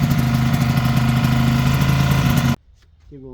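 A 1973 Ski-Doo 399 twin snowmobile engine idles loud and close with a steady throbbing drone, then cuts out abruptly, leaving near silence before a brief voice.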